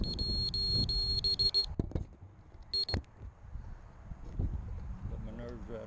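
A Vortex 150 mini drone sounds its high-pitched locator alarm in rapid repeating beeps, loud at first and returning in a short burst, with people talking and movement noise around it.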